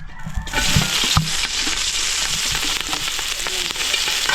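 Sizzling and frying of calamari and other ingredients being sautéed in oil in a pan, a steady loud crackle running throughout with occasional sharper pops and stirring clatter, no voices.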